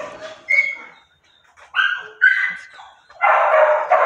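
A female dog in an indoor shelter kennel room lets out a series of close, high whimpers and whines mixed with a few short yips and barks, in irregular bursts with pauses between.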